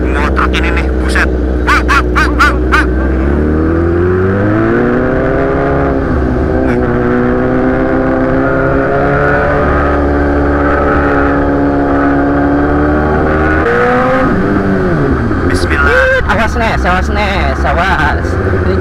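A BMW S1000RR HP4 superbike on a road, its engine droning loud and close with rising and falling revs through gear changes, steady and continuous.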